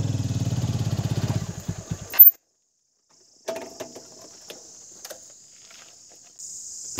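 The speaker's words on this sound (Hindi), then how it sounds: "फटाफट से स्टार्ट करते हैं बाइक और निकलते हैं" A motorcycle engine starts and idles loudly up close for about two seconds, then cuts off, leaving silence and later faint scattered knocks and a high insect-like hiss in a winter forest camp in Uttarakhand.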